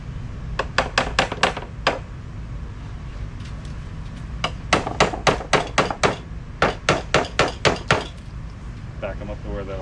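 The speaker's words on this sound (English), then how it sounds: "Then you take the hammer." A hammer strikes nails at a homestead in quick groups of sharp metallic blows, four to six hits at a time separated by pauses, loud and close.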